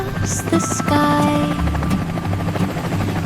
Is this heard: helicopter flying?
yes